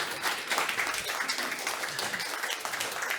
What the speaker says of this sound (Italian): Prima un applauso alla nostra Sara.